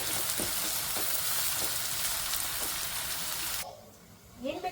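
Onions hit hot oil already crackling with mustard seeds and curry leaves, giving a loud, steady broadband sizzle for about four seconds that cuts off sharply, followed by a quieter pause and a brief clatter.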